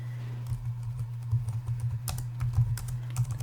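Steady typing on a computer keyboard while entering R code, a continuous run of light, quick key clicks over a low background hum, with no voices.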